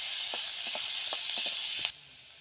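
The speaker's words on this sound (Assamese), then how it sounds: "আমাৰ পিঁয়াজ ৰঙচুৱাকৈ ভজা হৈ গৈছে" Onions frying in a very small amount of oil give a bright, steady sizzle with several small crackles and pops, close by, before the frying cuts off abruptly near the end.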